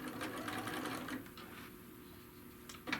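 Close up, a sewing machine stitches through thick bag material in a rapid, even whir that holds for the whole moment with no speech.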